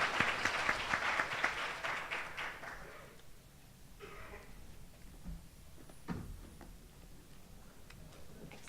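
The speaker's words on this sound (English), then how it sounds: "please give a round of applause to our speakers" An audience at a conference session claps for the panel speakers, a dense burst of applause that thins out and fades after a few seconds, leaving quiet room noise and a few scattered claps.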